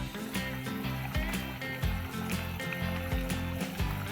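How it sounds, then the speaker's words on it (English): Methi muthiya curry is stirred in a pot as the muthiyas are gently added, with soft, rhythmic sloshing and thick liquid swirling, close and fairly quiet. "Let's stir this one more time and add in the Methi Muthiyas."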